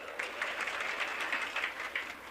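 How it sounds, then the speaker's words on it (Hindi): An audience at a Hindi spiritual discourse breaks into brief applause, a dense patter of clapping, moderately faint and somewhat distant, lasting a couple of seconds. "ताली मत बजाओ, यहां ताली बजाने की मर्यादा नहीं है।"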